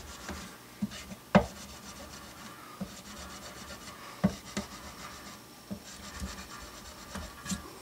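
Belt sander cleaning up bass guitar parts for a Precision Bass setup, giving a continuous low rasping rub with a few sharp knocks and scrapes as parts are pressed against the belt, fairly quiet throughout.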